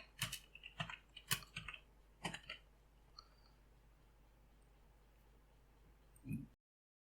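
Quick bursts of keystrokes on a computer keyboard as a form title is entered in Excel VBA, close and clear, clustered in the first few seconds, then a pause and a final soft thump.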